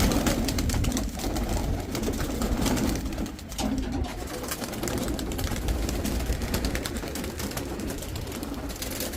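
Giribaz high-flyer pigeons cooing on a city rooftop, a dense continuous chorus of soft throaty coos from many birds, close and loud throughout.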